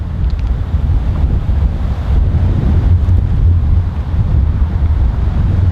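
Strong headwind of about 50 km/h on a golf course, roaring steadily and loudly against the microphone as continuous low buffeting with no break.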